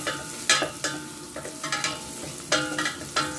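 Sautéing in a pan for paksiw na saluyot: a steady sizzle under repeated scraping stirs, with several sharp spoon-against-pan strokes at irregular intervals, close and clear.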